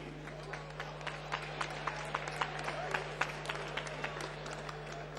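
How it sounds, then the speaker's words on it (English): Crowd applause greets kickboxer Damian Trzcinski as he is introduced at a boxing event, with scattered claps rising over a steady hall hum and murmur, moderately distant and fairly faint. "big applause for Damian Trzcinski."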